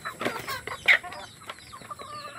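Pet chickens cluck in a few short, close calls with softer chatter between them, and no voices are heard.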